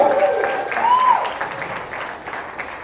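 An audience at a live femme fest show claps and cheers in a steady wash of applause, with voices mixed in and a whooping call rising above the crowd.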